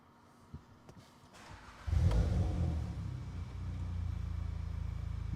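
A VW Golf R with a Revo tune and Scorpion exhaust set to normal mode starts up and revs, a sudden loud low rumble that settles into a steady, fairly tame idle drone, heard close with no talk.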